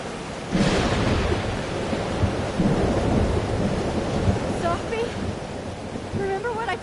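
A loud thunderstorm in the video game Life is Strange Double Exposure, with steady heavy rain and rolling thunder rumbling throughout and a few faint tonal sounds near the end.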